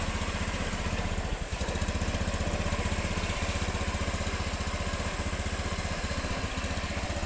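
A 2018 Honda Beat scooter engine idles steadily close by, with an even, rapid low putter that holds the same pace throughout and no talking.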